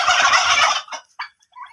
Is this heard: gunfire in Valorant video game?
no